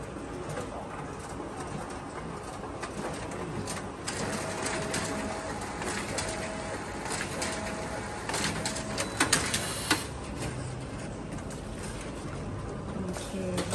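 A Canon Advance copier runs a print job with a steady mechanical whir and hum. Paper feeds with faint clicks and shuffling, and a few sharper clacks come near the end.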